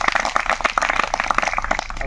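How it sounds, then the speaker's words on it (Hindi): A crowd at a rally gives loud applause welcoming two guests, clapping dense and continuous with sharp irregular hand strikes throughout. "दुई जन को आम जोरदार करताली दे स्वागत"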